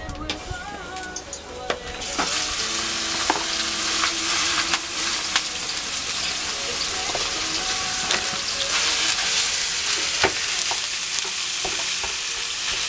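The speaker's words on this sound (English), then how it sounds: "And I start frying the meat." Steady loud sizzling of beef frying in a hot pan, with occasional stirring clicks and scrapes throughout, no talking.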